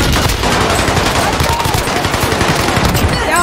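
Sustained automatic gunfire in a first-person shooter video game fires continuously and loudly, a dense rattle of shots with a brief voice over it near the end.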